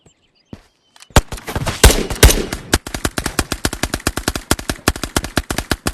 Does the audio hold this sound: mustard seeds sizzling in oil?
no